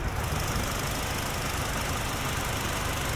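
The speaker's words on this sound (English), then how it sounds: "Just puttering away in there, pretty quiet, not a lot of injector noise." A steady, low idle from a 2024 Hyundai Sonata N Line's 2.5-liter turbocharged engine hums continuously with a soft, even puttering and faint mechanical ticking, fairly quiet and unchanging throughout.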